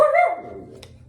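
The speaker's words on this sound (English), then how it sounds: "there is a dog like a mile and a half away" A single dog bark rings out, loud and close-sounding, with a short yelp that fades into quiet background noise.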